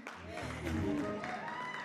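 Audience applause at a film trailer launch event, a short burst of clapping heard under a voice talking over a microphone.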